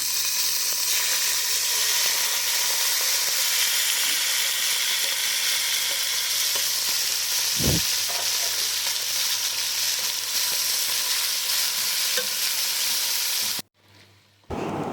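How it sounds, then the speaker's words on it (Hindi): Minced keema frying in a pan gives a continuous, even sizzle close by for most of the stretch, with one brief knock midway and a sudden cut near the end; no talking. "कीमे को आपने बहुत अच्छी तरह से भूनना है। जब तक मेरा कीमा यहाँ पे बन रहा है"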